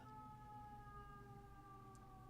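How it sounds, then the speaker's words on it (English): Sirens wail outside in New York, heard faint and distant as a steady held tone with no talk over it. "I really hate New York sometimes with the sirens"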